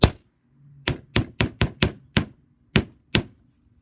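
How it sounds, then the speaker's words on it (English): Hammer strikes flattening wire, about nine sharp metallic blows in uneven bursts, close and loud with short silences between them. "And what you're going to do, you're just going to hammer."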